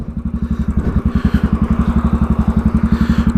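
A Royal Enfield Classic 500 motorcycle thumps along under way, its single-cylinder exhaust beating in a loud, close, even pulse that holds steady throughout with no voices.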